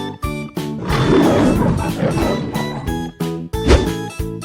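A tiger roar from a children's paint-animals crossing game, a loud growling roar swelling over bright looping game music with chiming notes, alone with no talk.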